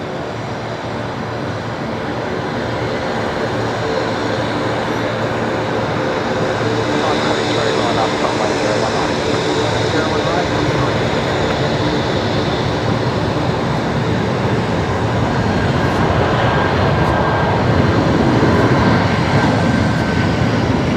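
A Link Airways aircraft taxis into Bay 47 at Brisbane Airport, its engines a steady, close broadband roar that slowly builds over the whole stretch, with voices faintly present beneath it.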